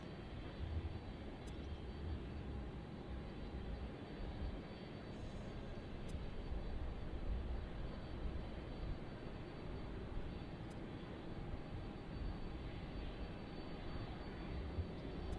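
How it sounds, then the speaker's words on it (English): A Boeing 767 passing at Cincinnati's airport gives a steady, broad engine roar that stays level and fairly distant throughout, with no voices over it. "Another 767."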